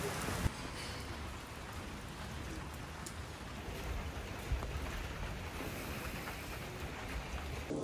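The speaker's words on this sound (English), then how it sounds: "It is raining like crazy." Heavy rain pours steadily outdoors on a city street in Paris, a dense, continuous hiss of drops drumming on surfaces with no breaks and no speech over it.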